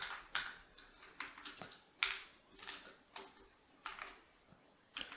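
Someone types code on a computer keyboard in short bursts of quiet clicking keystrokes, alone and fairly close, with brief gaps between groups of keys.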